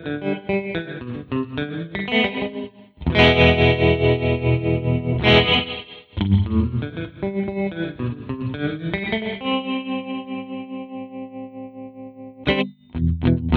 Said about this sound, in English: the optional modulation on this is tremolo